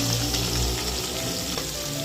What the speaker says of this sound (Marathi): आता आपण त्याच्यामध्ये कांदा घालूया.